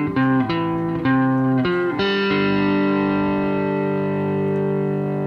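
An electric guitar with distortion plays a phrase from a melody: a few quick picked notes, then a long sustained ringing chord, loud and alone.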